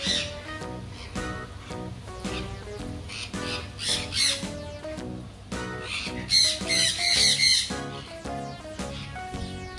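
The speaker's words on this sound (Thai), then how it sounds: "ถ้าใครพักโซนนี้ก็จะได้ยินเสียงนกร้องนะคะ" Captive birds kept at a Khao Yai resort squawk and call repeatedly in loud, overlapping bursts, with some shrill, tonal cries mixed in.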